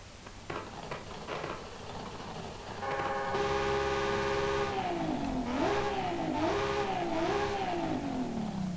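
A stock V8 diesel engine in a Ford Lightning revs up in Forza Horizon 5, rising from a ticking idle into a loud, steady roar, then swelling and dipping through several throttle blips before the pitch falls away.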